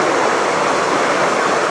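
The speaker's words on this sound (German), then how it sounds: "Ach, wie schön, dass hier ein Wasserlauf ist." Mountain stream rushing beside the hiking trail to Preikestolen in Norway, a loud, steady broadband wash of water filling the whole moment with no break and no voices.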